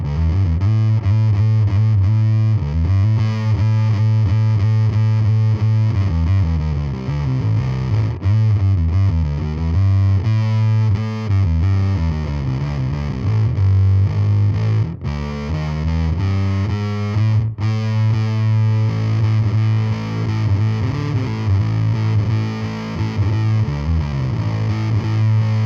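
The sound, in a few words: Warm Audio Foxy Tone Box octave fuzz pedal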